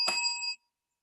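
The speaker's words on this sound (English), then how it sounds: "We have trained our cats and the kittens that when that bell rings that they get treats" A cat treat bell rings once with a clear metallic ding, bright and close, ringing for about half a second before cutting off into silence.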